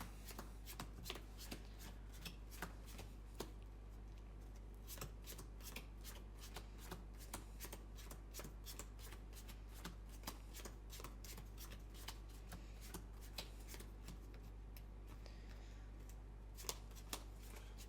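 A deck of playing cards is shuffled close up, with repeated quick riffles and soft flicking bursts in an irregular rhythm that continues through the whole stretch, with no talking.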